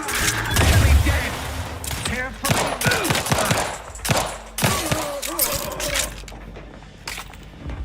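Gunfire in The Outer Worlds 2, loud clustered bursts of shots and impacts with combat effects and echoing tails, rising and falling in intensity over several seconds.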